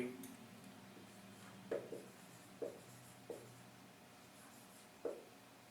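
A pen or marker scratches out a few separate short strokes on a board or paper, quiet and spaced irregularly over soft background noise.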